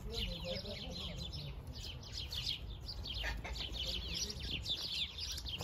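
Birds chirping and calling on a hot spring day in Zemo Ponichala, bright repeated tweets overlapping at mid distance over a low outdoor murmur, continuing throughout.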